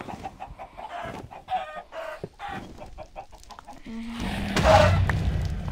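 A chicken in Minecraft clucking in short, repeated clucks at a soft level, followed by a brief louder squawk near the end, with no talk over it.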